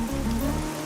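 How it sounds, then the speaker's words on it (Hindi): Rain falling steadily in a continuous dense patter, heard alone over a brief moment with a low droning hum underneath. "ये बारिश है कि रुकती ही नहीं है"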